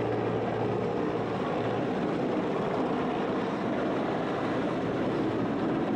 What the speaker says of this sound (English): Hovering over Mbarara City as it traces proper coordinates of Mbarara University playground where it landed, this army helicopter stirred panic among Mbarara City dwellers.